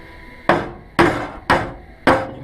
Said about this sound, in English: And then I take the hammer and just kind of line it up and bump it in a little bit